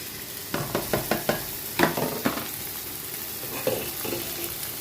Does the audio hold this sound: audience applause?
no